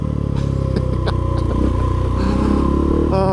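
A KTM 690 SMCR single-cylinder motorcycle accelerates hard in second gear, its loud, close engine note pulsing with a thumping, rising drone over a few seconds.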